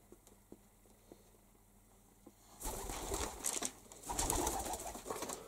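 Domestic pigeons coo softly at first among faint ticks and shuffles, then loud close rustling and wing-flapping bursts take over, with no talking.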